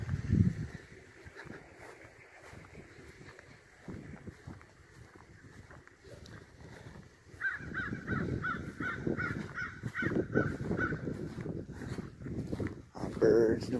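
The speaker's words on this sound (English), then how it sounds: "Our birds doing some hollering." Crows caw repeatedly outdoors on a morning walk behind run-down buildings in Ahoskie, North Carolina, a rapid series of loud calls rising midway over wind and footsteps, with a person talking now and then.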